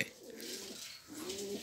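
Pigeons cooing in a Romanian pigeon loft: two soft, low rolling coos, the second steadier and clearer, fairly close against a faint hissy background with no speech.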